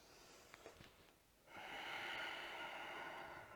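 A slow, deep breath during a vinyasa yoga practice: a faint, airy inhale swells up and holds steady, close but quiet.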